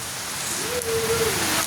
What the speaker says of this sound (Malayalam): നോക്കിയേ, നിറയെ മഴ അങ്ങനെ പെയ്തുകൊണ്ടിരിക്കുകയാണേ.